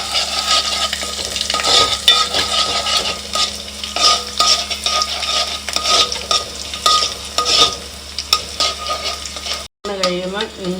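Garlic sizzles in hot oil while being stirred for mango pickle, a steady close frying hiss broken by scraping stirs, cutting out briefly before a short different tonal sound at the end.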